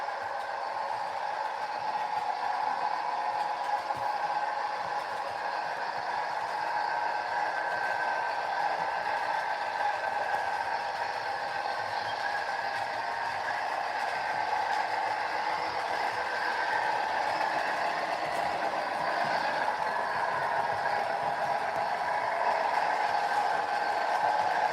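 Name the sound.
model freight train running on a layout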